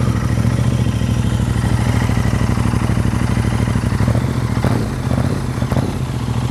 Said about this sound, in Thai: เดี๋ยวเรามาฟังเสียงท่อกันสักนิดนึงว่าเป็นยังไงบ้าง